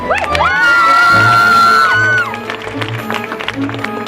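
An event crowd in Dewsbury lets out a big cheer, led by one long, high, sustained whoop lasting about two seconds. It is followed by scattered shouts and chatter as the noise tails off.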